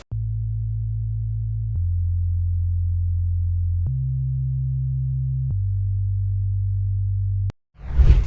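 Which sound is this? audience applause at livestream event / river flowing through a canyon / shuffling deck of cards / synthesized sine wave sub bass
synthesized sine wave sub bass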